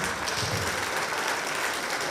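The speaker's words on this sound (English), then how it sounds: "A big round of applause for" Steady audience applause at a VEX Robotics competition, dense clapping at an even level throughout with no voices standing out.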